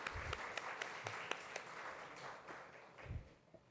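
Faint, thin clapping from a church congregation during a Sunday worship service, scattered claps over a soft room hum with a few low thumps.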